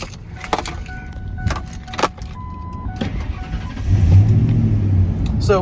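A red 1997 Ford F150 single-cab pickup is heard close up: a few faint clicks and a key rattle, then the engine cranks and catches, settling into a loud, rumbling idle with a slight rev.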